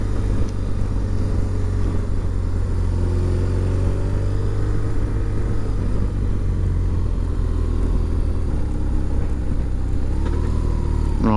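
A BMW R1200RT SE motorcycle cruises along a country road, its boxer engine giving a steady low drone with gear and throttle shifts near the end, constant and close throughout.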